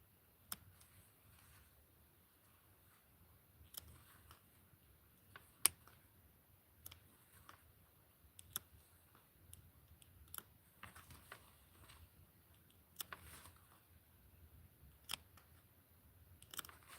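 Scissors snip fabric for a Skipper doll dress, making faint, scattered clicks and short cuts at an uneven pace against a quiet room.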